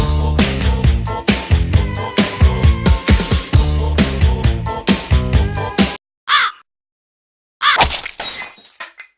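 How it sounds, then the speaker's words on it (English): A crow caws loudly over busy music, then a glass shatters sharply after a brief silence. "a rambunctious crow flies in the open window"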